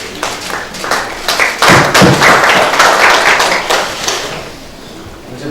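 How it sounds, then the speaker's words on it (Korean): Members at a parliamentary party meeting clap together, starting with a few claps that build into steady applause, then thin out and fade. "수고하셨다고 박수"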